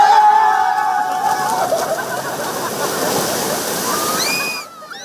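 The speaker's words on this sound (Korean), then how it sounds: "바다로 뛰어들어 물장구를 칩니다." Seawater off a Busan beach rushes and splashes loudly and continuously as people jump in to cool off, a dense broadband wash close by that ends abruptly at the close, with no clear talk.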